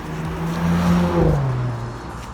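A 2021 Audi S5 Sportback pulling away from a stop, its engine note rising smoothly through a low, steady drone with a brief swell of revs, heard close and alone.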